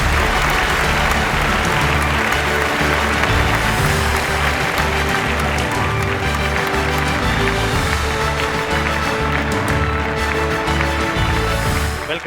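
Loud, dense applause from an audience welcoming Dr. Don Indrajith on a health talk show, sustained throughout with heavy music or rhythmic sound mixed underneath.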